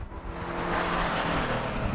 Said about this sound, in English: The sounds emanating from the Cayman's 2-liter aren't the world's most voluptuous automotive tones.